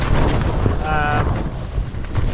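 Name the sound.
strong wind gusts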